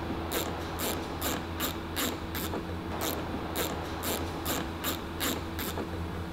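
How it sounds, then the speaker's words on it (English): A socket wrench ratchets out 10 mm bolts holding a guard on a Suzuki Jimny, giving steady, evenly spaced bursts of sharp metallic clicking over a low background hum, close and with no talking. "there's two 10 mil bolts that you need to take out, so just get your socket, undo them"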